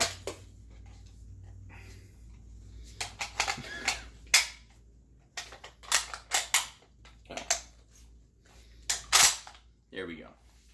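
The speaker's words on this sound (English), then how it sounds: "as soon as I bring the bolt forward, it's actually going to kick this out of place" Bolt of a Lee Enfield rifle worked by hand at close range: a sharp metallic clack, then bursts of irregular clicks and snaps with short pauses between them.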